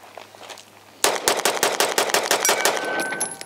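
Rapid string of loud, close pistol shots from a Sig P365 Fuse emptying a 17-round magazine, sharp evenly spaced cracks that start abruptly after a quiet second and continue to the end.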